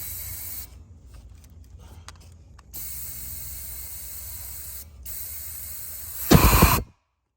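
Compressed air hisses steadily into a cylinder of a 1999 Ford F250 V10 engine with the piston down, rising to a louder rushing burst near the end before cutting off abruptly.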